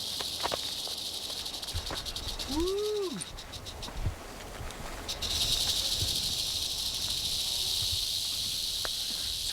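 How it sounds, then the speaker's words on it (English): A large western diamondback rattlesnake rattles up a creek outdoors, giving a continuous dry, hissing buzz at moderate distance, broken briefly by a man's excited whooping exclamation. "Rattle! It's coming from up the creek. It sounds like a big one."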